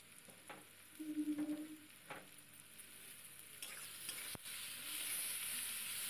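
Chopped tomato frying with onions and turmeric in a pan for a spicy chicken dish, a steady sizzle that grows louder as it goes, with a few stirring scrapes and clinks of a spatula along the way.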